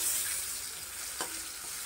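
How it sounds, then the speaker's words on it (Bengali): Potatoes and shrimp fry in a pan with a steady close hiss of sizzling oil and one brief stirring scrape, no voices. "আলু আর চিংড়িটা ভাজি করে নেব।"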